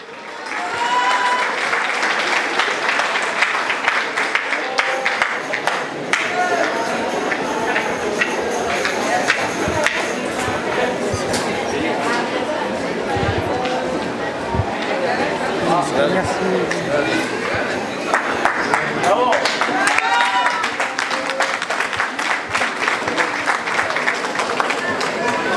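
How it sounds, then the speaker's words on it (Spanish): Sustained applause from an audience at an outdoor award ceremony during a fair in Charapan, with clapping filling the clip while voices and chatter mix in underneath. "Un fuerte aplauso, por favor."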